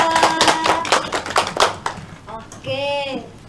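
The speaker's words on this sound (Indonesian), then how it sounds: "Kita kasih tepuk tangan Mbak Krista." Students in a classroom clap in a short burst of sharp, close hand claps lasting about two seconds, with voices mixed in. A person speaks once the clapping dies away.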